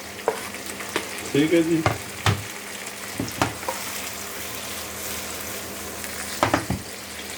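Chopped tomato sizzles and fries steadily in a pan for palak paneer while a utensil stirs and scrapes in short strokes, with a brief spoken remark.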